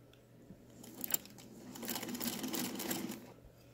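A Singer Featherweight sewing machine stitches steadily for a few seconds with a quarter inch foot fitted, its rapid mechanical chatter rising and holding at moderate loudness, close up with no talking.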